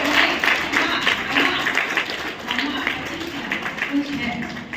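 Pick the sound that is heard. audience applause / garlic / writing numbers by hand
audience applause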